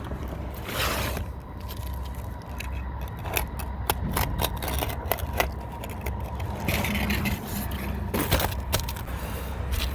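A knife or blade scrapes and slices through an asphalt roofing shingle to remove one tab, making a continuous rough rasping with short cutting strokes, fairly close and without talk.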